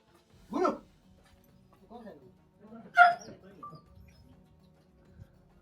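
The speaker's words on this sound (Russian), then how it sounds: "Там собака, да?" A dog somewhere near a courtyard house in Afghanistan gives a couple of short barks with a whine between them, spaced a few seconds apart and not very loud.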